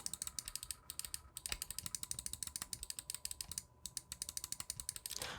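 Rapid, crisp clicks from the two main buttons of a G-Wolves Hati gaming mouse, tapped in quick steady succession up close with no talking.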